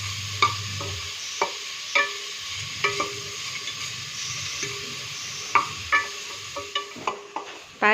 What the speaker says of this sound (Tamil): பாருங்க, வெங்காயம் நல்லா வதங்கிட்டு இருக்கு.